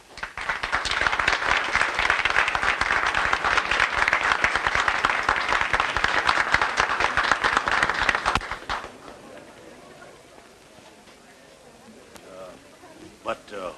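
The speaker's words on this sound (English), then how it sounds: "Who was that applause for just as I came in?" A theatre audience applauds a minstrel performer, loud sustained clapping from a large crowd lasting about eight seconds before dropping off abruptly into quiet room noise with faint movement.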